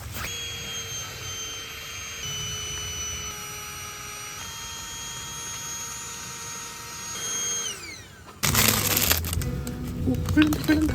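A battery-powered air pump inflates camping gear at a campsite: a steady, whining motor hum runs for about eight seconds, its pitch sliding down as it winds off, then loud close rustling and handling noise follows.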